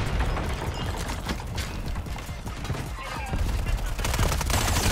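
Gunfire in the video game Warzone: rapid, overlapping bursts of shots and loud impacts crackle without pause, dense and close throughout.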